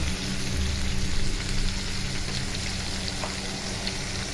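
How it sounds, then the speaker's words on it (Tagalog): Chili and black pepper frying in a pan while fish paksiw is cooked, giving a steady, close crackling sizzle that keeps going without a break. "lagay na rin natin yung sili dyan. And then, maglagay na tayo ng paminta."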